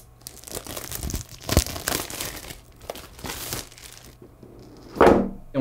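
Crinkly plastic packaging being torn open and handled while unboxing a budget 800mm lens kit in a plastic case, with irregular close rustles and crackles and a louder crunch near the end, no talk.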